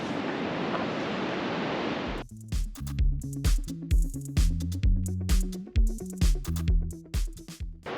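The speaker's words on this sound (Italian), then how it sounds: "Questa è una spiaggia enorme con queste onde oceaniche" Ocean surf on a huge beach washes in a broad, steady roar for about two seconds, then cuts off abruptly into a series of rhythmic, booming thuds.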